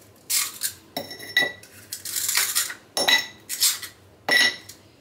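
Big homemade ice cubes clink and knock against each other and a container in a kitchen, several short bright bursts in an irregular rhythm, close and fairly loud, with no voices.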